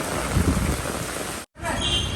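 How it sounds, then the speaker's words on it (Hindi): Heavy rain pours down in a dense, steady hiss that fills the clip, broken by a brief dropout near the end, with no talk over it. "ज़्यादा बारिश हो रहा है"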